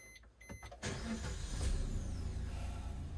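Manual-transmission car engine starting with a push button, a few faint clicks followed by the engine catching into a steady, low, close idle.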